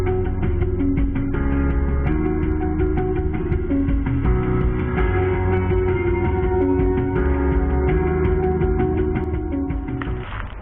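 Music plays steadily from upgraded door speakers inside a Daihatsu Xenia, with full bass and a dense mix heard up close for about ten seconds, no talking.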